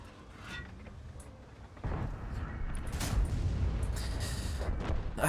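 A heavy tank in a tank video game fires its cannon. A few deep booms land over low rumbling game noise, which grows louder partway through.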